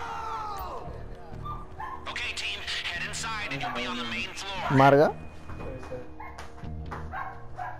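Dogs bark in the video game GTA Online during an aggressive casino robbery, short barks and a brief whining yelp mixed under constant lively voices and game sounds.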